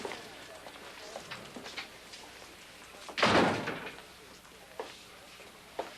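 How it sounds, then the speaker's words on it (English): An office door swings shut with a single firm thud in a quiet room, standing out briefly above faint background movement. "Close the door."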